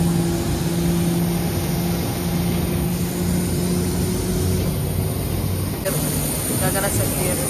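A passenger airplane's engines produce a steady, loud drone with a constant hum that fills the whole stretch without letup, heard from inside on a first flight.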